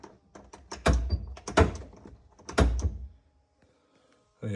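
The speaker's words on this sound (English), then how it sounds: "electric door locks" Several quick mechanical clunks and clicks from a Toyota Supra drift car's electric door locks cluster in a few bursts, close and crisp, followed by quiet and one more thunk at the end.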